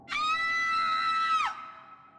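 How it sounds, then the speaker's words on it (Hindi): A woman gives one long, loud, high scream as a horror-story effect, holding steady before dropping off sharply, with a faint tail afterward. "रानी जोर से चीखी।"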